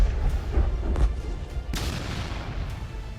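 An anti-tank guided missile explodes during the AMOGH Fury military exercise: a sharp blast followed by a heavier boom that rolls into a long, rumbling decay, loud and fairly distant.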